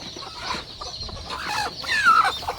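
Hens in a village nest give soft, irregular clucks and low murmurs close by, with a few louder squawky notes rising midway, and no talking over them.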